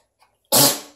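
A single sharp sneeze bursts out loudly after a brief quiet moment, then trails off.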